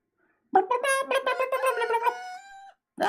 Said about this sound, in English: Huh? Are those chickens?